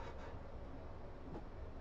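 A train rolling downhill on the Portsmouth Direct Line near Haslemere in a train simulator game, giving a steady, moderately loud rumble of wheels on rails with faint rattling and no voices.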